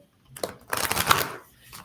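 Oracle cards being shuffled by hand during a live reading, a short papery riffling burst that swells and fades over about a second.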